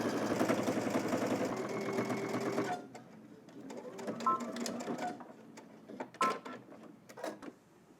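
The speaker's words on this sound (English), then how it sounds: "You're just going to do a straight stitch all the way around the curve, ending right here, using 5/8 of an inch seam allowance." A sewing machine runs a straight-stitch seam around a curve on sweatpants fabric, humming steadily for a few seconds before stopping and then starting in short, uneven bursts.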